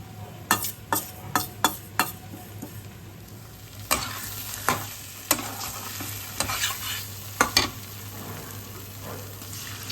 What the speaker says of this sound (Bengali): আমরা কিছুটা জিরে ড্রাই রোস্ট করে নিচ্ছি।